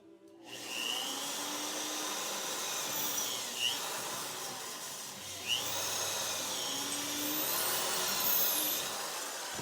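A power drill bores a screw hole through the joint where two antlers touch on an antler candle holder, a continuous whining drone holding steady for about nine seconds with slight pitch shifts as the bit works through.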